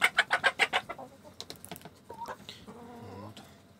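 Chickens and a rooster cluck quietly nearby, opening with a quick rhythmic run of clucks, then scattered softer calls and a drawn-out tonal squawk.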